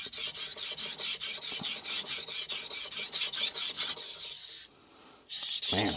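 A Victorinox hard stainless chef knife is drawn across a King NEO 800 whetstone in a quick, even rhythm of close, raspy scraping strokes, with a short quiet pause before the strokes resume.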